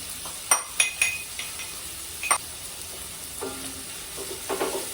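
Ginger garlic paste frying in a hot tempering for palak paneer rice, a soft sizzle with several sharp clinks and scrapes of a spoon against the pan as it is stirred, close and alone.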